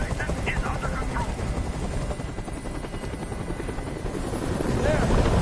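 A helicopter hovers overhead in the video game Detroit: Become Human, its loud, continuous rotor throb filling the scene and swelling slightly toward the end.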